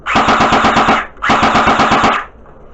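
An H&K 416 battery-powered airsoft rifle fires on full auto in two loud, close bursts of rapid, evenly spaced shots, each about a second long with a brief gap between them.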